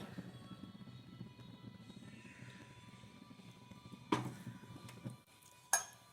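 A cooking pan with coconut oil is handled and set on the stove for a mackerel curry, giving two sharp metallic clanks over a quiet kitchen background.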